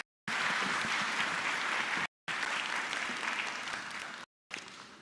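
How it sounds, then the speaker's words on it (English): A conference audience at the CGIAR Science Week closing ceremony claps steadily in a dense, sustained round of applause, broken by two brief silent cuts. "Another round of applause,"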